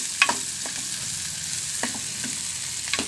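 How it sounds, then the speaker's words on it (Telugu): Chopped onion pieces fry in hot oil while being stirred, giving a steady soft sizzle with a few sharp scrapes and clinks of the spoon against the pan, no voices. "వీటిని మనం కలుపుకుంటూ మనం వేయించుకుందాం."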